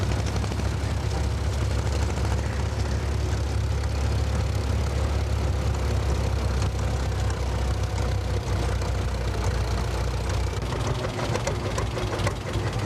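A vintage John Deere D tractor engine runs steadily and loudly at a ploughing championship, a dense continuous low rumble with no pauses and no one talking.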